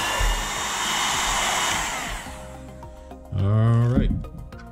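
A heat blower roars steadily, close and loud, loosening glue on the base of a carousel clown snow globe, then cuts out as a voice speaks over the fading motor.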